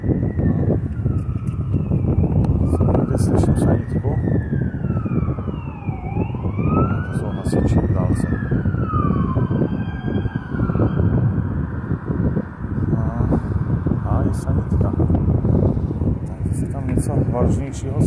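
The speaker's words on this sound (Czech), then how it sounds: "Někde slyším sanitku." A wailing ambulance siren sweeps up and down continuously, loud and close, over a steady background roar of traffic.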